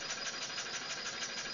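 A homemade steam engine with a small water pump and steam-exhaust heat recycling runs steadily, giving a continuous hissing, rhythmic chuffing drone heard close and alone.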